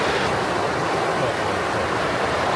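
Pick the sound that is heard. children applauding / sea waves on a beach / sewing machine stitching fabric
sea waves on a beach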